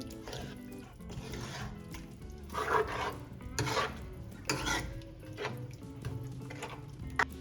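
A chicken karahi mixture with oil and water being stirred in a pot, giving scraping, sloshing stir strokes with light clinks of a utensil against the metal, fairly close and moderately quiet, no speech.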